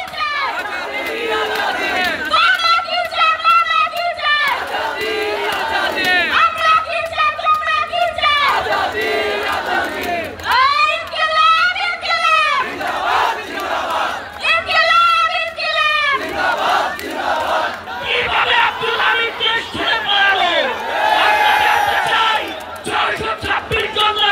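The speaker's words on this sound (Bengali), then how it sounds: "আপনারা দেখছেন এখন পর্যন্ত কিন্তু স্লোগান চলছে।" A large crowd of students at an Awami League ban rally chants slogans in repeated, rhythmic bursts, loud massed voices rising and falling in call-and-response waves over a constant background roar of the gathering.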